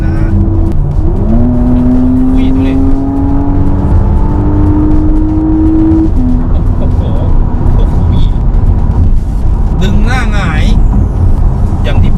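Porsche Cayenne Coupe Hybrid, tuned to 600 horsepower, driving with a steady engine drone and a long gliding pitch rise as it accelerates, heard close under road noise with brief clicks later on.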